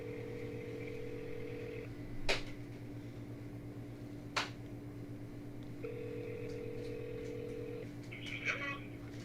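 A phone call waits in a caller queue, with repeating electronic ringback tones that sound in long, steady pulses separated by pauses. Faint clicks and a short burst of tones near the end suggest the line connecting, over a low, constant hum.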